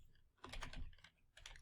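Typing on a computer keyboard, a quick run of close soft key clicks, a short pause, then a few more presses.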